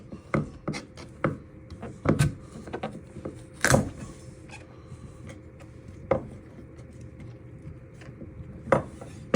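A knife slicing a butternut squash on a cutting board gives a series of sharp chops and knocks at uneven intervals with scraping in between, close and fairly loud with no talk.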